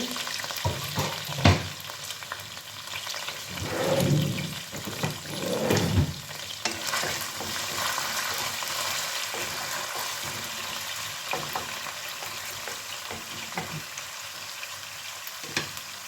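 Chopped onions fry in a pan, a continuous soft sizzle with a couple of louder bursts early on and occasional clicks of stirring, close by and with no voices over it.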